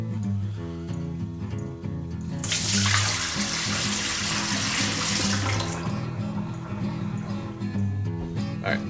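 Excess water gushes out of a large cooking pot of corned beef stew into a sink, a loud splashing rush lasting about three seconds over a steady low hum, then quieting to a trickle.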